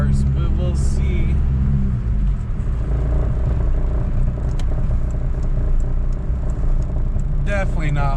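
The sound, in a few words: car engine revving while accelerating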